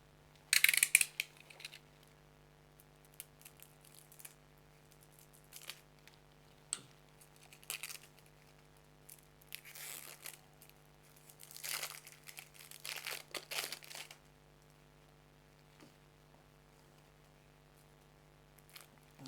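Packaging on a set of playing cards is sliced and peeled open with a box cutter, giving quiet scattered crinkles and scrapes of paper and sticky plastic over a steady low hum.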